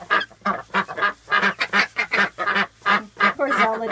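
Ducks and guinea fowl call from a straw-bedded pen, a rapid, evenly spaced run of about a dozen loud, nasal honking quacks close by.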